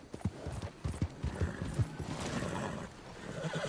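Horse hooves gallop in Red Dead Redemption 2, a close, rhythmic clip-clop of steady beats, with a brief whinny folded into the run.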